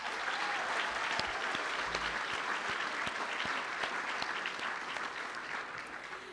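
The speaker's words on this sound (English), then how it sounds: "join me in another round of applause for our talented alumni performers and our MC, Mr. Jim Cusimano." Audience applause fills a room at an alumni awards gala, a dense, steady clatter of many hands clapping that holds strong throughout and eases slightly toward the end, with no talk over it.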